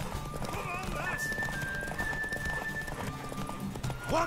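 A horse in a video game clip-clops steadily at a walk and lets out whinnies, a shrill neigh rising sharply at the very end, with a low voice speaking underneath.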